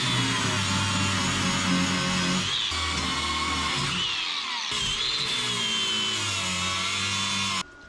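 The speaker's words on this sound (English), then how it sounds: "these suckers are rusty, so we're gonna flap attack it" An angle grinder with a flap disc grinds down rusty bolts on a 1961 Parkwood Wagon, a loud continuous whine that shifts pitch as the load changes, with a brief dip midway before running steadily on to a sudden stop.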